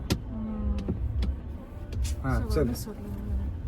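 A car engine runs with a low, steady hum during a driving lesson, beneath close talk between instructor and learner. A few sharp clicks from the controls punctuate it.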